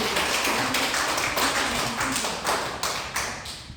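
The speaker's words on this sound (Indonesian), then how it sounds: "Tepuk tangan untuk kamu semua." Children in an elementary school classroom clap together, a steady run of sharp, close hand claps with a slightly irregular rhythm that continues throughout and gradually fades toward the end.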